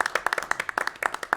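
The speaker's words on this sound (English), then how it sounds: "let's have a round of applause for their personal and collective victories" Scattered hands clapping at a county commission meeting, a small group producing a sparse, uneven patter of distinct claps over a little more than a second, moderately loud and near, with no talk over it.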